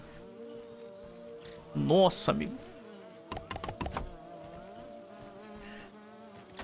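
Flies and mosquitoes buzz in the survival game Grounded, a close insect drone swelling loudly for a moment then settling back, while someone speaks briefly over it.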